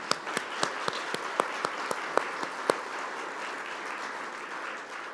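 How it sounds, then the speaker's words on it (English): Audience applause at a conference on settling Ohio and First Nations, a scattering of distinct claps over a steady wash of clapping that carries on evenly after the sharper hits fade. "they deserve still yet another round of applause"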